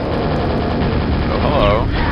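Super nail gun in Quake firing a rapid continuous stream, a dense loud mechanical rattle that holds steady for a couple of seconds.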